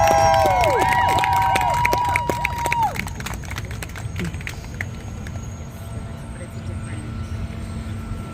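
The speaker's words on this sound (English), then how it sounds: "Let's give a round of applause to this amazing group over here." A rally crowd cheers and applauds, with loud whoops and shouts up front that fade into a scattered, lower murmur of clapping and voices.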